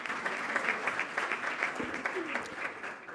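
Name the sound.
audience applause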